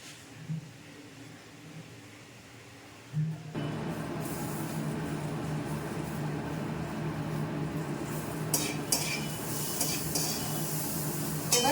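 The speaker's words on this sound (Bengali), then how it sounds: "আমার চাউমিন বয়েল করা হয়ে গেছে মিক্স করে দিচ্ছি সবজিও ভাজা হয়ে গেছে" Quiet kitchen noise, then from about four seconds a steady loud sizzle of stir-frying noodles and vegetables, with scraping and clinks near the end.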